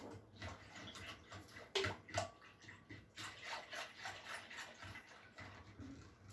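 Milk poured into a strawberry yogurt mixture gives a steady liquid pour with soft splashing and faint clinks, fairly close and continuous, no talking.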